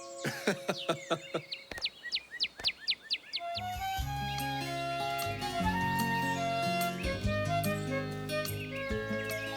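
Cartoon birds chirp and call in a quick series of high tweets, then a bright, busy musical score takes over and continues to the end.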